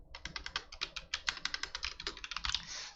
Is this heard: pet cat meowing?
no